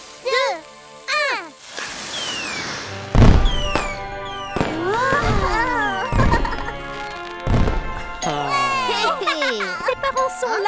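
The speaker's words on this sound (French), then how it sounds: "Après dîner, il y aura encore des feux d'artifice." Fireworks in a Caillou cartoon burst in a series of bangs and crackles after a countdown, with sparkling whistles and tinkling tails, interspersed with brief voices and cheerful music.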